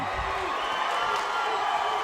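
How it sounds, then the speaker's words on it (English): An arena crowd roars in a continuous wash of cheering and shouting after a mixed martial arts submission win, loud and sustained throughout. "Crowd is going crazy right now"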